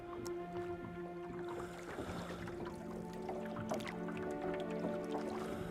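Seawater sloshing and dripping beside a small fishing boat at night in a fishing game, soft close splashes and trickles over a quiet steady hum.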